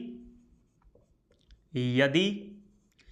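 Letters are written on a board in faint, scratchy strokes at a quiet classroom pace, broken by a brief burst of a voice.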